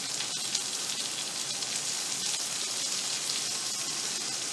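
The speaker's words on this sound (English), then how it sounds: "Saute our veg a little bit" Vegetables sautéing in a pan: a soft, steady sizzle like light rain, with faint scattered pops running evenly throughout.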